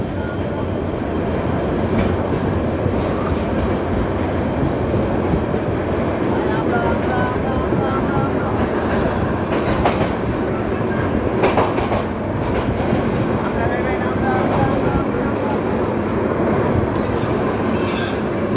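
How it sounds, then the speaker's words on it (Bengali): The Mohanagar Express, hauled by a Hyundai 3000-series locomotive, rolls through Tongi Junction with loud, continuous rumbling and screeching wheels on the rails close by, with voices faintly audible. "মহানগর এক্সপ্রেস ট্রেনটি টঙ্গী জংশন ক্রস করে যাচ্ছে"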